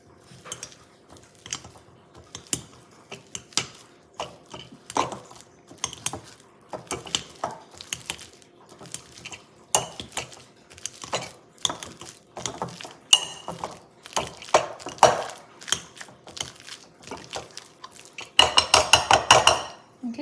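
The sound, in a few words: mashing bananas with a masher for banana bread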